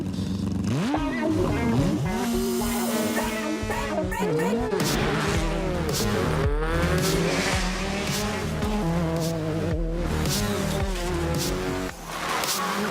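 Rally cars racing in a French rally championship round, engines revving up and down with gear changes and tyre squeal, loud and continuous while a narrator talks over them.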